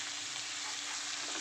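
Cabbage being fried with hilsa fish head and potatoes hisses in a pan, a dense, steady sizzle with soft stirring scrapes, close and continuous with no talking.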